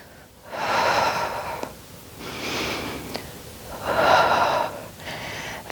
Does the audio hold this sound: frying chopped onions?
no